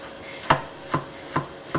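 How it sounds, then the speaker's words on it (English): Knife chopping cauliflower on a board, four evenly spaced, moderately loud cuts about every half second against a quiet kitchen background. "Chop up a couple more bits."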